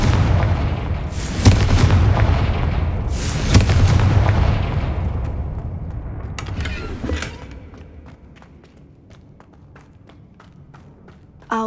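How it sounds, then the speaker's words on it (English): In the Hogwarts Legacy video game, a Confringo spell sets off a loud booming explosion with heavy rumble, then a second blast, and the noise fades into scattered crackles and debris ticks. "Confringo."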